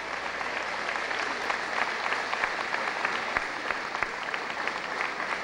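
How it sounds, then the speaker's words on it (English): Homecoming crowd at a high school ceremony giving a standing ovation to an elderly alumna from the class of 1934, with continuous dense applause throughout. "She's getting a standing room applause for that."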